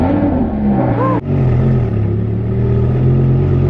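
A Lamborghini engine starts and settles into a loud, deep, steady idle rumble that carries on to the end, close by.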